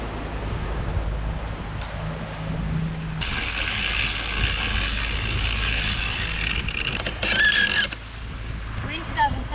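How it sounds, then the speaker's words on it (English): Sailboat winch pulling out the head sail, a rapid ratcheting clatter of pawls and gears that starts abruptly and runs for several seconds, close and loud over wind and water noise. "Winch doesn't sound happy."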